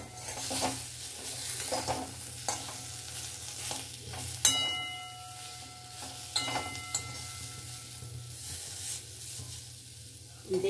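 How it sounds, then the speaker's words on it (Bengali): Bitter gourd pieces with salt are stirred in a pan, giving soft scraping and a light sizzle with occasional clinks of a spoon against the metal, quiet and close under a low steady hum. "দিয়ে আমি সবগুলোকে একসাথে নিয়ে ভালো করে নাড়িয়ে দিয়ে আর অল্প একটু রাখবো"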